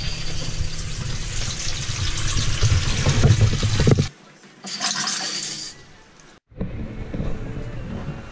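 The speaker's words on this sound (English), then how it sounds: "Oh, taps are on." Water runs from the taps aboard a sailboat, a loud rushing trickle that cuts off sharply, splashes back briefly, drops out again, then resumes flowing.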